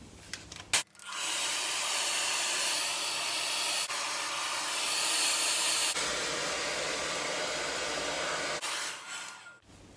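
A hair dryer blows a loud, steady, close whoosh while drying hair, switching on after a second, changing pitch a few times as it shifts speed or position, and cutting off near the end.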